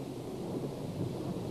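Thunderstorm rumble over heavy rain on a tropical island lagoon, a dense, loud, continuous roar with no voices.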